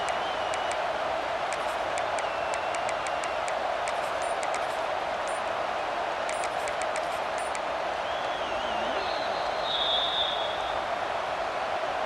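Stadium crowd noise from the EA Sports College Football 26 football video game: a steady, dense roar that holds at an even level for the whole stretch, with no talk over it.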